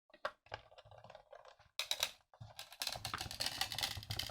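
Scissors snip through paper while cutting out butterfly fairy wings, a close series of irregular crisp clicks and crunches that grow busier and denser toward the end.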